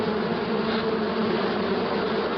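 Honeybees swarm over the combs inside a hive after a few puffs of smoke at the entrance, making a dense, steady, close buzzing hum that holds evenly throughout with no talking.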